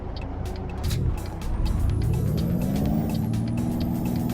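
A Peterbilt 389 truck engine, a mod in Euro Truck Simulator 2 driven on Finnish and Estonian roads, rumbles low and then revs up steadily, its deep harmonic drone climbing in pitch under faint clicks and ticks.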